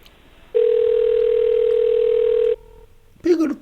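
A telephone line tone holds steady for about two seconds while an emergency call to EMS is placed. A voice follows after a short pause.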